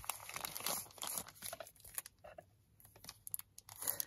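Small gift packages wrapped in paper are torn open close up, with sharp crinkling, crumpling and tearing bursts in an irregular rhythm and quiet gaps between handlings.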